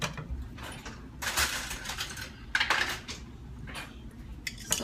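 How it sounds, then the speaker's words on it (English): Eggs mixed with fish sauce are whisked in a bowl, with quiet bursts of metallic clinking and scraping in an uneven rhythm. "And we just gonna whisk it up and we're gonna put it right in here."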